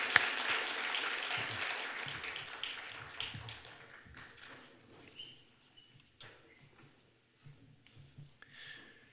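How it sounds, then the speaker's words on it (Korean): Church congregation applauding after a baptism and confirmation service, a burst of clapping that starts full and then thins out, with scattered claps and light taps trailing off into quiet. "한번 힘차게 박수하겠습니다."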